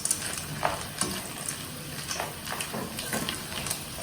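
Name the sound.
stirring raw macaroni frying in a pan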